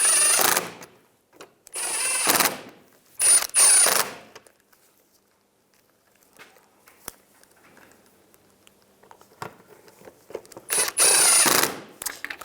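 Ratchet tightening screws on a Chevy Equinox windshield washer reservoir, several loud bursts of rapid clicking separated by quiet pauses, close up and without speech.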